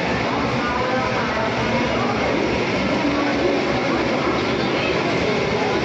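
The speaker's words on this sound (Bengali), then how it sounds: "ট্রেন জার্নি হচ্ছে, হাওড়া চলে এসেছি আমরা" A train approaching Howrah on the Mayapur to Kolkata route rumbles steadily along the rails, a continuous loud broadband roar with faint rhythmic clatter throughout, no voices.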